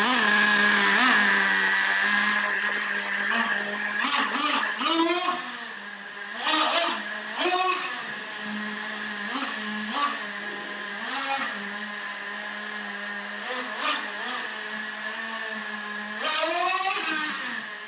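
A Traxxas Revo 3.3 nitro engine idles with a steady high whine, then revs repeatedly in short bursts that rise and fall, some rapid and close together, with a longer rev near the end.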